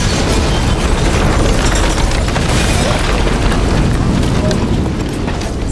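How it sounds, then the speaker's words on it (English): A massive explosion roars as one loud, sustained, dense rumble that fills the whole stretch and fades slightly toward the end, with no talking over it. "Just as they escaped, a massive explosion erupted behind them."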